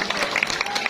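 An audience at a live comedy performance claps in a brief, dense burst of applause, moderately loud and close, with a faint murmur of voices underneath.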